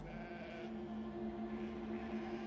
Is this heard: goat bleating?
yes